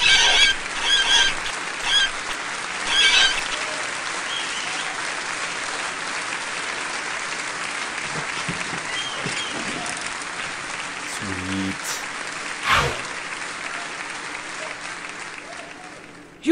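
The crowd in the Battleblock Theater video game breaks into applause and cheering that runs the whole time, with louder bursts of clapping early on and another swell later.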